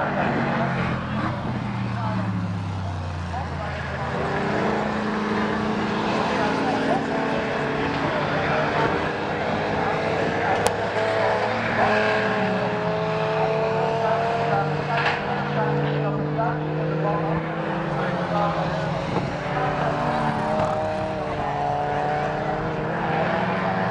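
Race cars, including a Mustang and a GT40, race at Assen, their engines droning and whining through rising and falling pitch sweeps as they pass, with steady, fairly distant roar and people talking over it.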